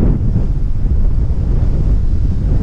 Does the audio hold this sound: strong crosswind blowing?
yes